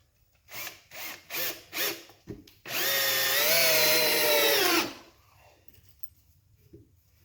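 A power drill gives four short bursts, then runs steadily for about two seconds as a screw is driven into wood, then stops.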